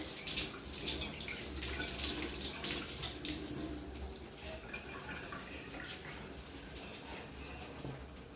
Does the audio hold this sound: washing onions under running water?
yes